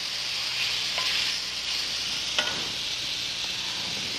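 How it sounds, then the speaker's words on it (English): Brined seafood gets stirred in a frying pan, a continuous bright sizzle with faint utensil scrapes and a single small clink, close and steady without talk. "Give them a stir."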